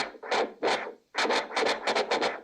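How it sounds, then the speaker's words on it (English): Tape machines in the film Blow Out scratching as tape is rewound and fast-forwarded, several short loud rasping bursts in quick succession with a brief pause near the middle. "the loud scratching as he rewinds and fast forwards the tape on both machines"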